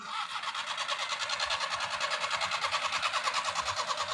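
A used Mazda car engine cranks and runs with a steady, rapid pulsing rhythm, fairly close, with a faint voice in the background.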